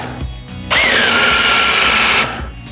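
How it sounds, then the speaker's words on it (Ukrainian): A SEQUOIA SBC2004M-QV cordless mini chainsaw cuts through wood with a loud, close, high-pitched motor whine and chain buzz for about a second and a half, bracketed by quieter idling. "Вже б мало і відрізати, але через те, що я криво пиляю,"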